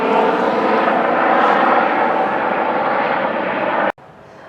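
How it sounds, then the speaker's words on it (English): A medical helicopter flying overhead makes a steady, loud roar, a broad rumbling drone that holds constant before cutting off abruptly near the end. "We do have a medical helicopter going overhead."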